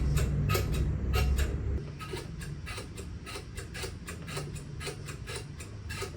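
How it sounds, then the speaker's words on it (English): The switch lever of a rice cooker, used to play Minecraft, is flipped over and over, producing a fast, close series of sharp plastic clicks above a low hum that drops after about two seconds. "One thing I was never getting tired of was the sound of the rice cooker switch."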